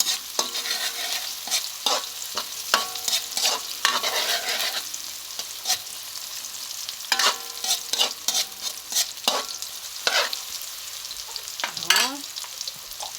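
Onions being sautéed in a pan: a steady sizzle broken by frequent, brisk scraping and clattering from stirring, close and lively throughout, with no talking.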